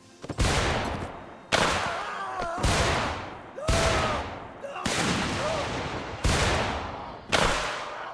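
Rifle fire in Mount & Blade Warband's American Civil War setting: seven loud, evenly spaced gunshots about a second apart, each a sharp crack with a booming tail, standing alone with no talk.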